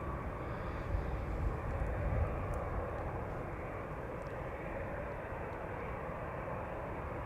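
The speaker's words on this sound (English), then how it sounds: "EasyJet A319. Turning around the corner." An EasyJet Airbus A319 taxiing and turning at Amsterdam Schiphol Airport, a steady broad engine rumble and whine at moderate distance, slightly louder at first then holding even.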